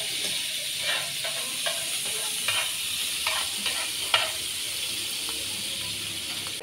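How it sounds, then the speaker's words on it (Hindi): Onion frying in a pan for a home-cooked keema dish, a steady soft sizzle with occasional stirring scrapes and taps, heard alone without talk. "अब कर लेते हैं इसको थोड़ा सा फ्राई।"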